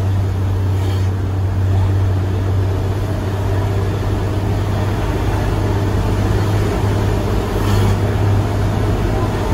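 Hino truck hauling a 33-ton load drives steadily, its engine a constant low drone with road rumble running loudly and evenly throughout, no talk heard.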